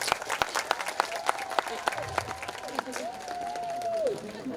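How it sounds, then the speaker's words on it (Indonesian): Scattered clapping from a crowd greets a professor at a botanical garden soft opening, sharp claps spaced irregularly while a voice carries on over them. "Tepuk tangan ini untuk Profesor Rudolf kita"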